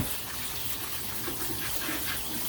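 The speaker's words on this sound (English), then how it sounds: "So I'm just going to rinse this just like this," Running tap water pours steadily into a metal bowl being rinsed, a continuous close splashing gush at even loudness with no talking.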